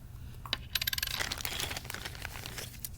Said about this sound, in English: We have a metal washer.